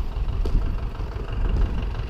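A farm tractor engine runs at a steady idle nearby, a constant low rumble with no pauses or revving.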